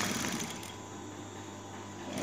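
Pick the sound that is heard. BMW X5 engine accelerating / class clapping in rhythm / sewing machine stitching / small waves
sewing machine stitching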